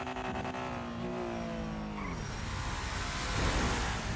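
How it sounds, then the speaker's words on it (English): A car in the video game GTA roars and screeches with engine noise and tire squeal, building to a louder impact-like burst near the end; no voices. "Yo, you just hit my car"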